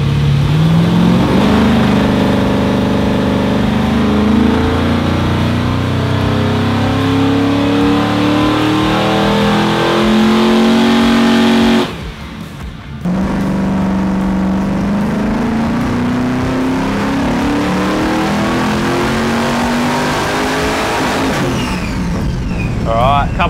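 A 650+ HP car engine revs hard on a hub dyno, with long sustained pulls whose pitch climbs steadily, a brief drop-off midway, then another loud run building again.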